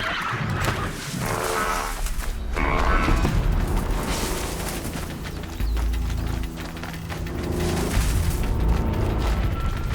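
Deep rumbling booms of video game explosions roll in waves in Horizon Zero Dawn, with distant roars and shouting-like cries layered over a continuous low, loud din.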